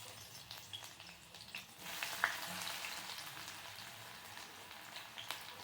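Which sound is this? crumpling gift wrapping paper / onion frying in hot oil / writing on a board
onion frying in hot oil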